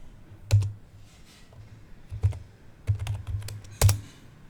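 Keys clatter on a computer keyboard as a command is typed into a Windows 11 system, arriving in a few short bursts of close, crisp clicks separated by quiet pauses.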